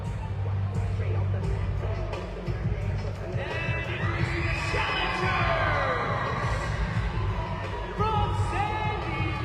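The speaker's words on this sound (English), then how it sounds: "Listen to that ovation." Wrestling crowd at a Thunder Mountain Wrestling show giving an ovation, a sustained roar of cheering, whoops and shouts from a packed audience, with voices rising over the steady crowd noise.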